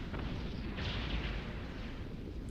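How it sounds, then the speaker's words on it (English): A smoothbore muzzle-loading cannon fires in the video game Champions Online, a loud, broad roaring blast that sustains for a couple of seconds with no voices. "Still bothered by his cannon firing more frequently than it should be able to."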